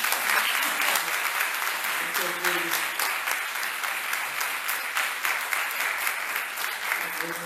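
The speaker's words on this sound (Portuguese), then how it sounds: "Jesus merece uma salva de palmas" A church congregation applauds, a dense, sustained wash of many hands clapping that holds steady for several seconds, with faint voices mixed underneath.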